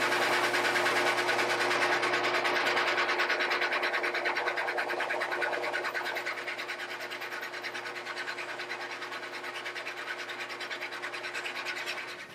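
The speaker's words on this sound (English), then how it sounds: "So now I'm going to put a relief cut on the underside of that saddle to conform with the shape of the bridge" A relief cut is filed into the underside of the bridge saddle on a Martin HD-28 acoustic guitar, producing quiet, close, rapid scraping strokes that keep a steady rhythm throughout.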